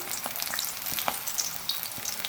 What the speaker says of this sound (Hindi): ऑयल हमारा गर्म हो चुका है। पकोड़े हम हाथ की मदद से डालेंगे